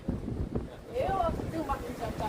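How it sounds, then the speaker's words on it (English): Gusty wind at North Beach buffets the microphone with loud low rumbling while a person talks over it. "it's really windy here"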